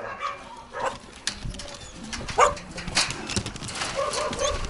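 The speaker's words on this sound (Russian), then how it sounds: "вот смотрите, живая собака" A dog whimpers and gives short yelps and barks at an animal shelter, close by and moderately loud, in a series of uneven bursts with faint background noise.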